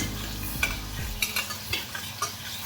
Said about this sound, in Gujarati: ક્યારેક ક્યારેક વચ્ચે વચ્ચે ચમચું હલાવતા રહેવાનું છે